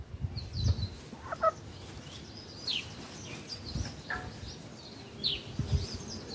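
Chickens on a farm during guava season, a small hen and a rooster, clucking and squawking in scattered short calls at moderate distance, with faint ambient noise and no talk.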